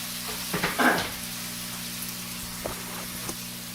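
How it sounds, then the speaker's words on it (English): Onions hiss and crackle as they hit a hot pan with sausages, a brief loud burst of sizzling that settles into a softer, steady fry. "You should be able to hear the sizzling sound. That's me putting in the onions."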